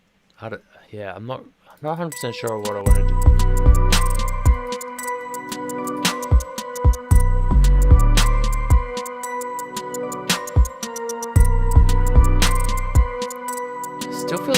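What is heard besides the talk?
metal rim bell in a beat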